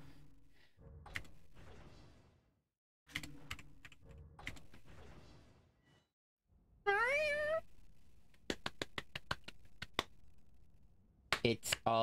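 A cat meows in the horror video game The Evil Within, one short rising meow amid quiet keyboard clicks and button taps, with a person talking softly at times.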